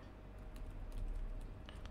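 Quiet keystrokes on a computer keyboard entering a hostname during a Linux install, a short run of soft irregular taps close by with no talk.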